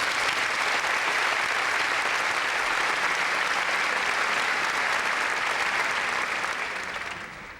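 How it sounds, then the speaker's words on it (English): Sustained applause from a sizable audience at a high school graduation ceremony, steady and dense for about seven seconds before tapering off at the end. "Let's have a round of applause for them."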